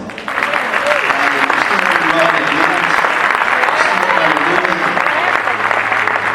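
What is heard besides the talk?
church congregation applauding the Lord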